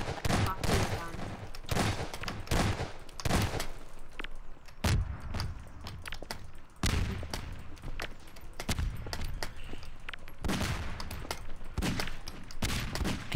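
Gunfire in the Garry's Mod video game, with repeated sharp shots and bursts throughout, loud and close, mixed with thuds and footsteps.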